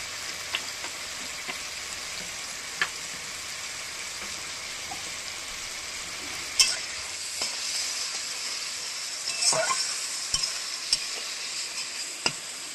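Vegetarian banana flower (mocha) sautéing in a pan, a steady close sizzle and hiss with occasional scraping and stirring clicks.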